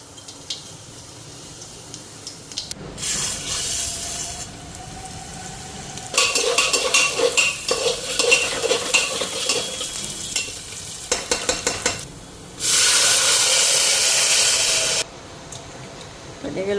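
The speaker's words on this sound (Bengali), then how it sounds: "এদিকে জিরা আরও শুকনো লঙ্কা ফোড়ন দিয়ে দিলাম।" Cumin seeds and dried red chillies tempering in hot oil, with bursts of loud crackling sizzle interrupted by quieter stretches and the scrape of a utensil in the pan.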